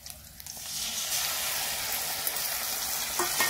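Onions frying in a pan on a home stove while cooking fish curry, a steady soft sizzle with light crackling that stays even and fairly quiet throughout, no talk over it.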